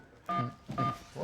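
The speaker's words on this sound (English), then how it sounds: "That's the longest phone number I've ever heard." Telephone keypad dialing tones sound as two short electronic beeps in quick succession, with a third starting at the end, close and clear.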